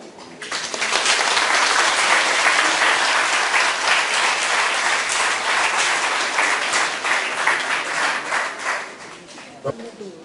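Loud, sustained audience applause at a tobacco-control advocacy ceremony in Senegal, a dense wash of clapping that swells after the first second and holds steady before thinning near the end.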